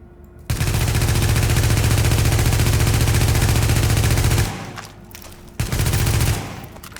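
Sustained automatic fire from a primary weapon landing headshots in The Division, a loud continuous stream of shots for about four seconds, a short pause, then a second shorter burst.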